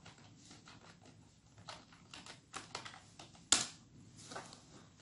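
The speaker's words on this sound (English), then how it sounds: "Then we can type whatever we want." Typing on a computer keyboard while entering text into an Arduino serial monitor: soft, irregular key clicks at close range with one sharper, louder keystroke near the middle, no voices.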